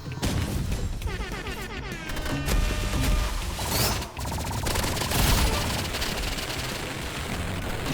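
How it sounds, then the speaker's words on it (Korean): Grenade launcher fire and explosions in an online shooter game: a dense, loud barrage of booms, crashes and gunfire, continuous and chaotic over a constant roar of game sound. "이게 유탄 발사기지."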